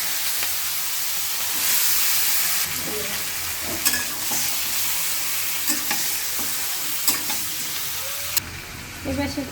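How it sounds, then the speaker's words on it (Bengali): Potatoes go into hot oil in a kadai with a loud rush of sizzling. The hiss settles into steady frying, broken by intermittent scraping and clattering as the pieces are stirred. "তেলটা গরম হয়েছে আলুটা দিয়ে দিই"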